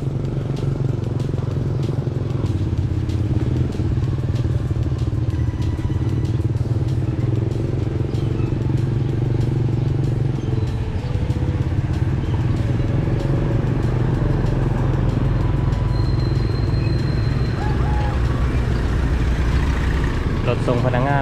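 A motorbike rides through Ban Na Khouay village near Vientiane, Laos, its engine holding a steady, close, continuous drone with faint road clatter throughout.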